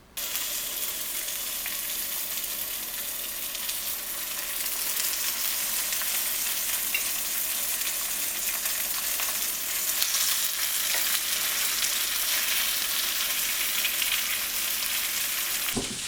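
Salmon fillet frying skin side down in hot, shimmering oil in a pan, a steady, loud, close sizzle with a slight swell partway through, continuous and with no talking.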